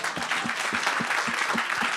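An audience at a community partnership breakfast applauds in rhythmic unison, about seven evenly spaced claps in two seconds, moderately loud and close with a light murmur of voices beneath.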